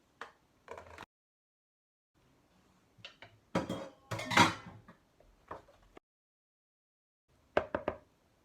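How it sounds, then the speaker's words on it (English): Cooked pasta tipped into a large red bowl, a scattering of near clinks, knocks and scraping taps with quiet gaps between them. "I'm going to add our cooked pasta."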